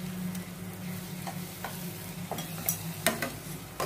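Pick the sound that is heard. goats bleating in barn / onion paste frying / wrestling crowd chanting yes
onion paste frying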